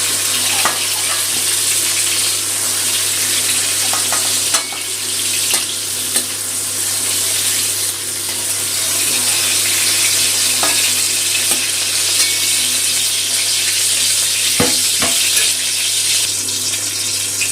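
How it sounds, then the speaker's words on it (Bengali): Eggplant fries lightly in oil in a wok for hilsa bhapa, a strong, steady close hiss with a low hum underneath and occasional scraping stirs and clinks, no talking. "বেগুনটা হালকা করে ভেজে নিলাম, খুব বেশি ভাজবো না"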